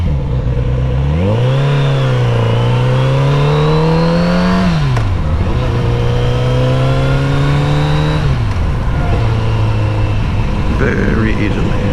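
A new motorcycle revs hard and accelerates nearby, its engine pitch climbing, holding and dropping through a couple of throttle pulls, loud and dominant.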